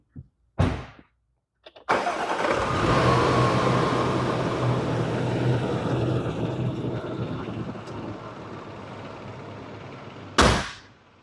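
A supercharged V6 in a white 2015 Range Rover Sport HSE cranks briefly, then catches and settles into a steady idle nearby. A sharp burst of noise follows near the end.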